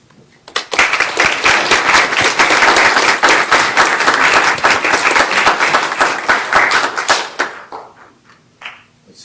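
Audience applause breaks out after a public debate, a loud, dense round of clapping that holds steady for several seconds before thinning out and fading.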